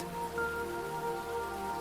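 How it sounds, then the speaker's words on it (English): Rain patters steadily against window glass on a night in a Venice retreat, a soft continuous wash with faint tonal hum underneath, no voices. "The sound of the fire, mixed with the rain against the glass, becomes the only music you need tonight."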